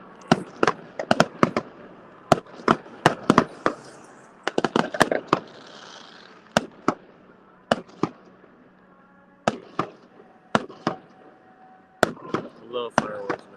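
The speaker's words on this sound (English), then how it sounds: "Watch the fireworks." Fireworks show exploding, with sharp loud bangs arriving in irregular bursts and clusters, some distant booms and crackles between them, heard outdoors with no voices over them.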